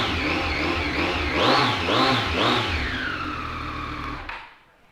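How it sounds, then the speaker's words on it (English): A 2018 Triumph Street Triple 765 RS engine with an Arrow exhaust runs at close range with a deep, throaty exhaust, revving up in a few quick blips before it settles and cuts off. "Let's give it a quick start up for you."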